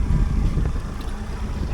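A brand-new Parsun 115 outboard engine running on a fishing boat off Anglesey, a steady low drone with wind and water noise over it, continuous and fairly loud, no talking.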